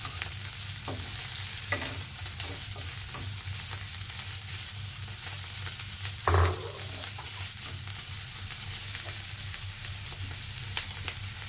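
Pork neck stir-fries in a pan for a morning glory and curry paste dish, with a steady loud sizzle broken by repeated scraping stir strokes and one heavier clatter partway through.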